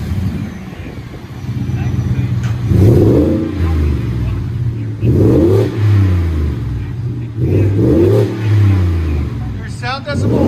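A Ford F-150 pickup's 5.0L Coyote V8 with an aftermarket exhaust revving loudly outdoors, three strong rising revs with the engine idling low in between.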